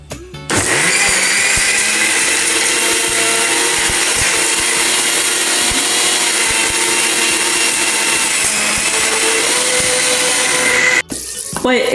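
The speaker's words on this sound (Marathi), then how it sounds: "आणि मिक्सर स्टार्ट करून घेऊया" A mixer grinder whirs loudly and steadily for about ten seconds grinding green chilli and coriander masala with water, then cuts off abruptly and briefly restarts.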